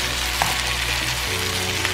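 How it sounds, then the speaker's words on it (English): Chopped capsicums sizzle loudly in a hot pan as they are stirred in for a beef pasta, a steady close frying hiss with no talk. "Then you add in all your capsicums all together."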